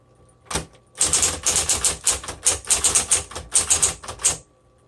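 A 1960s Smith Corona Coronet manual typewriter clacks through a rapid run of keystrokes, close and crisp. A single strike comes first, then dense bursts of typing lasting about four seconds, with no voices.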